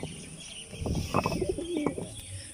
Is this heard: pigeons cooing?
yes